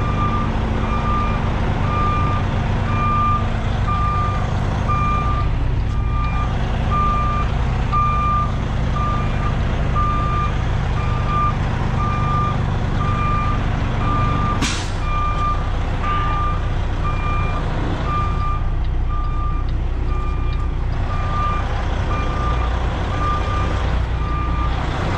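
A truck's reversing alarm beeps steadily and repeatedly over a low, continuous engine rumble in traffic, loud and close throughout, with a brief sharp hiss midway.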